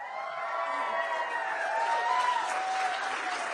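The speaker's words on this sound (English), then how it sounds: "I was cheering pretty loud for you" A political rally crowd applauds and cheers for President Donald J. Trump, a steady, dense wash of clapping with scattered whoops that holds at an even level throughout.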